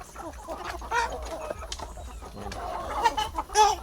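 Plucker x Aseel cross chickens on a farm range, clucking in scattered bursts nearby, with occasional sharper squawks against faint background noise.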